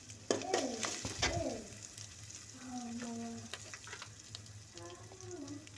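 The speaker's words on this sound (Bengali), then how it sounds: "ধনিয়ার গুঁড়া দিয়ে সুন্দর করে একটু ভাজি করে নেব।" Spices fried with onion and chilli sizzle in a pan, scraped by a few stirring strokes, while a pigeon or dove coos nearby in the background.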